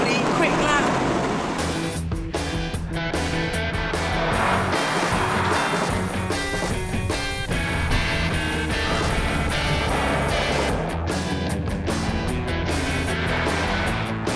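Subaru Impreza on a fast lap around a track, its engine roaring steadily and loudly throughout with little letup, tyre and wind noise mixed in.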